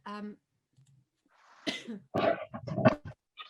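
A few short, harsh coughing bursts close to the microphone, separated by brief pauses, with a soft voiced sound at the start.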